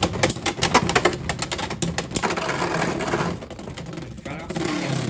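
Beyblade X spinning tops from a Hasbro Iron Man and Thanos set, launched into a stadium, rattling and clacking rapidly against each other in a dense, continuous close-up clatter that gradually thins.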